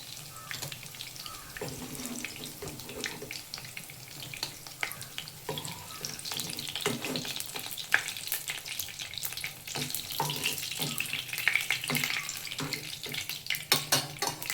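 Food shallow-frying on low heat in a pan gives a steady soft crackle, with faint watery clatter and stirring scrapes scattered through it. No voices are heard.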